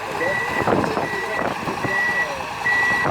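PistenBully snow groomer reversing during a groomer driving challenge at a ski resort, its loud repeating backup beeps sounding at a regular pace over a rumbling diesel engine, with someone talking underneath.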